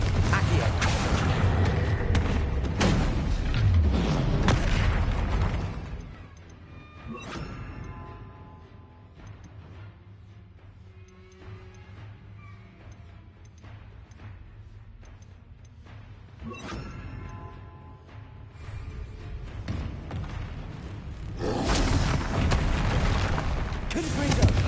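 Confringo spell blasts in Hogwarts Legacy, loud booming impacts with rumbling, creaking debris, fading to quieter combat ambience and then swelling into heavy blasts again; a voice talks over parts of it.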